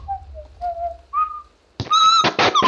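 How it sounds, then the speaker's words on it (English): A person whistles a few clear, wavering notes of the tune Scotland the Brave, close and fairly loud, before a brief pause and a burst of louder, broader sound at the end. "I'll never whistle Scotland the Brave again."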